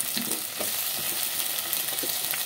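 Sliced onions and green chillies softening in hot oil for a mixed vegetable pulusu: a close, even sizzle with a few soft stirring knocks and scrapes, with no voices.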